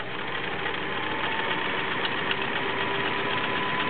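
A vintage Kenmore 1660 flat-bed convertible sewing machine stitching a wide zigzag, giving a steady, fairly quiet mechanical whir with a faint rapid needle rhythm throughout.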